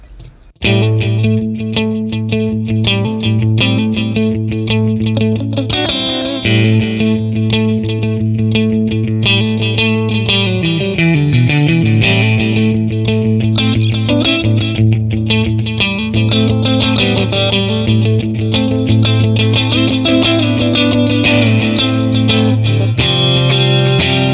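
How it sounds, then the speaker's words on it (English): Electric guitar played through a TONEX FX unit with a ping pong delay, notes bouncing wide between sides, loud and continuous with sustained distorted chords and repeating echoes throughout. "Let's use the ping pong so you get a basically more wider spread."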